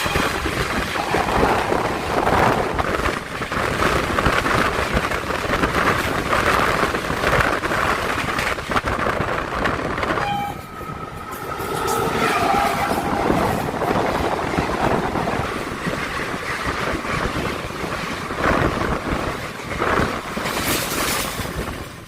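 Kanchanjunga Express passenger train rolling through Khana Junction in Purba Bardhaman district, heard from inside a general-class coach: a loud, steady, broadband rumble of wheels and carriage that holds for the whole stretch, with a brief dip midway.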